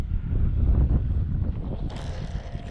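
Strong gusting wind at an outdoor winter flying field where an E-flite T-28 model plane is being flown, a loud steady roar of wind buffeting the microphone that lasts the whole time, with no talk over it.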